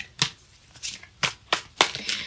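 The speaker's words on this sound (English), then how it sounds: "Think about the person that you would like me to tap into the energy of as I'm shuffling." A deck of tarot cards is shuffled by hand, giving five or six crisp riffling bursts at an irregular rhythm, close and fairly loud, with no voices.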